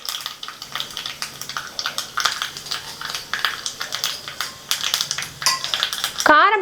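Rapid crackling and popping of mustard seeds and urad dal spluttering in hot oil, close and busy, with a short metallic scrape near the end.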